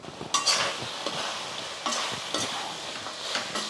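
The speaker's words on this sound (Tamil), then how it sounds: "இப்போ இதை வந்து இந்த மசாலாலாம் கொஞ்சம் நல்லா வாசனை போகிற அளவுக்கு நம்ம வதக்கிக்கணும்" Chicken sautéed with masala spices and curry leaves in a pan, a soft sizzle beneath repeated scraping strokes of a spoon, close and moderately quiet.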